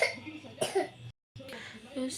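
A young child coughs in two harsh bursts separated by a short silent gap, close to the microphone, during an evening bout of coughing that keeps going until bedtime.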